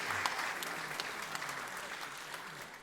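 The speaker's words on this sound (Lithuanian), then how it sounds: "Plojimai, plojimai!" Steady, fairly faint applause from an audience at the awards ceremony of a women's contest in Klaipėda, a dense patter of many hands clapping continuously without a break.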